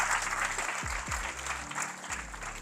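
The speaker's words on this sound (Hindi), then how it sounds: "तालियां होनी चाहिए अरफा" Audience applause at a talk show, a steady wash of clapping throughout under low hum and a few brief low tones.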